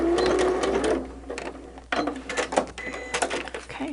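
A sewing machine runs in bursts, stitching fabric for a winter snowflake quilt block, its motor whirring with short pauses between runs, close and fairly loud.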